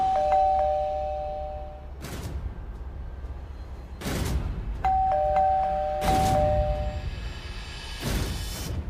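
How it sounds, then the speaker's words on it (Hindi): A doorbell chimes in repeated two-tone rings, interleaved with sharp, loud dramatic percussive hits that recur about every two seconds. "कब से डोरबेल बज रही है?"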